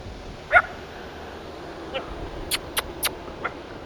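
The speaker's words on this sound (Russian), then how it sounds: "Собаки, целая свора," A pack of dogs guarding a monument in the village of Sapezhinka near Bykhov barks and yips, giving half a dozen short, sharp, separate barks spaced irregularly. The barks are moderately close over quiet outdoor background.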